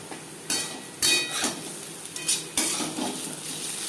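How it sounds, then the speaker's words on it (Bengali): Potato pieces shallow frying in a little oil in a pan, with a steady low sizzle broken by several sharp scraping and stirring clatters of a utensil against the pan, heard close with no voices. "ক্রিস্পি করে আলু ভাজা হয়ে গেছে"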